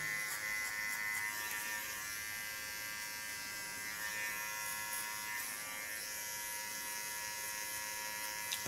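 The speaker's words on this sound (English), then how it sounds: "Now with a fine clipper" A fine electric hair clipper buzzes continuously at close range while trimming small hairs during a classic men's haircut, a steady thin whine with slight shifts in pitch as it moves.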